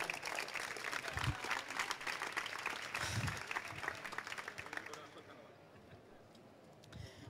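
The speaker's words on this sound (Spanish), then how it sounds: "Un aplauso para él." Audience applause at a school robotics climbing demonstration, a steady wash of clapping that fades toward the end, with a few low thumps mixed in.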